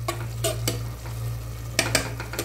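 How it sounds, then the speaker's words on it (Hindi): Chopped tomatoes are stirred in a pan, a low steady sizzle under a hum, punctuated by several sharp spoon scrapes and clinks in quick bursts near the start and again toward the end. "टमाटर ऐड करूँगी। इस तरीके से हिला लेंगे।"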